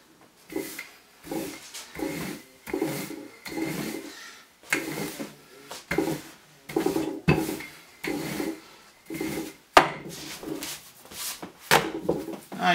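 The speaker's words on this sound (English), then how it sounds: "every once in a while, we'll just give her a flip" Cinnamon bun dough is slapped, flipped and rolled on a floured work surface. Soft, muffled thuds and rubbing come in a steady rhythm about once a second, close and fairly quiet.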